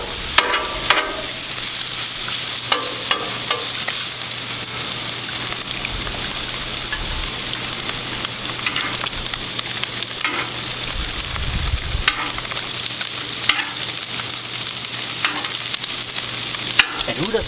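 Bacon and brats frying on a Blackstone griddle, a steady dense sizzle and crackle throughout, with occasional scraping and stirring clicks from a spatula.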